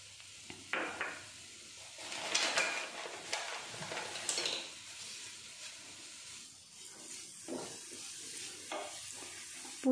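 Grated beetroot stirred in melted ghee for halwa makes soft, uneven scraping and low sizzling, with a few louder stirring bursts over a quiet background and no voices.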